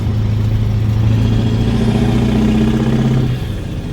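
Caterpillar 10.4 litre V8 turbo diesel in a truck fitted with a two-speed axle, running with a loud, steady low drone and a constant hum that eases slightly near the end.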